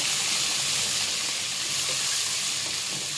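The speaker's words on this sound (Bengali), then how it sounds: "তো আমি পেঁয়াজটা ভালো করে বনে নেবো, রসুন আর পেঁয়াজ জিরার সাথে ভালো করে বনে নেই।" Onion fries in very hot oil, giving a dense, continuous hiss and sizzle that stays loud and even from start to finish with no voices.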